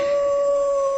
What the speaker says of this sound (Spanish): Lo que están escuchando ahora mismo es el aullido del lobo